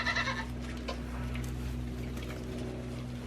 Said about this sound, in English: That's how you feed 10 baby goats.